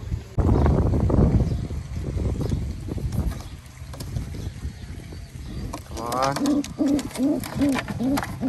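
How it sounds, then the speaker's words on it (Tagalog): A bird calls repeatedly in a rhythmic series of hooting notes, following a stretch of rough wind-like noise and faint voices. "napakatindi dito ng ibon na to"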